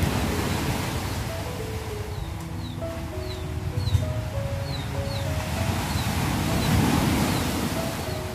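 Ocean waves wash onto a seaside shore in a steady broadband roar, with faint tonal calls and chirps drifting over the surf.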